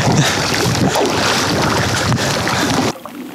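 Paddles push a small boat through water in a steady, loud wash of splashing and rushing water, heavily buffeted by wind on the microphone, ending abruptly in near quiet.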